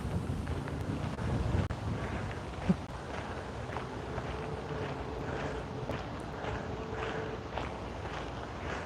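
Steady wind buffets the microphone beside a swampy lake lined with cattails, a continuous rushing roar with a few louder gusts and faint water sounds beneath.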